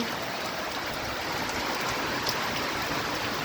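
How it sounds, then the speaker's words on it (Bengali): Heavy rain pours down in a steady, dense hiss, constant and even throughout with no voices. "প্রচুর বৃষ্টি পড়ছে, প্রচুর ধারা বৃষ্টি"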